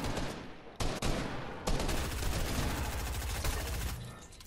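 Rapid automatic gunfire in the video game Fortnite, a loud, continuous stream of shots with brief gaps, close and dominating, easing slightly at the end.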